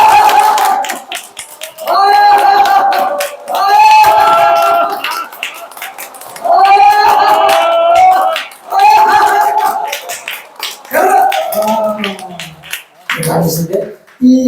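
Church congregation at a seniors' happiness school clapping hands together in rhythmic bursts, mixed with loud group shouting and chanting voices throughout, close and energetic.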